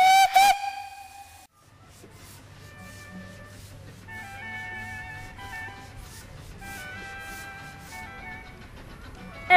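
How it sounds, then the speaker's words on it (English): A steam locomotive at a station at Longleat sounds a sharp, loud whistle blast, then falls to a quieter steady hiss and soft tonal hooting layered over a low rumble before another burst at the end. "today it's being pulled by the steam engine."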